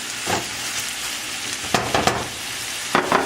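Stuffed pepper filling half-cooked and frying in a pan, a steady loud sizzle with occasional stirring scrapes breaking through near the end.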